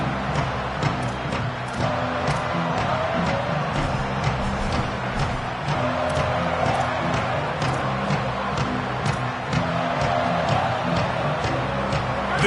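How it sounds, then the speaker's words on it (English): Dense football stadium crowd at a game, a steady roar of many voices that holds loud and even throughout with faint swells of cheering. "This crowd ready to make its presence known."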